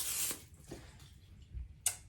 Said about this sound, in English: I'm just gonna give this a quick spray just so they don't stick.